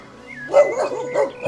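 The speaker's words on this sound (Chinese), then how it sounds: "真的有狗， 好几头狗。" Several dogs bark and yip in short bursts, fairly close, at a remote mountain farmhouse in Guizhou, with a thin whining tone between barks; no one is talking.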